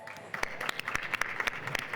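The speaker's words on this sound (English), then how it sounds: "Stand up and give us a round of applause for Serena" An audience at a Women in Tech event applauds with scattered, fairly light clapping that comes in a brief burst, a few sharp individual claps standing out against a soft crowd background.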